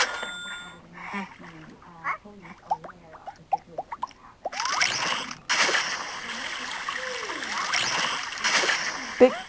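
Water splashing and sloshing in a tub as a cat is bathed, close by, with squeaky vocal sounds early on and talk-like noises mixed in.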